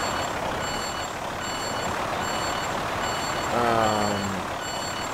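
Kenworth T660 truck in Euro Truck Simulator 2 sounding its reversing alarm, a steady series of evenly spaced high beeps over a constant engine rumble, with a brief rising tone near the end.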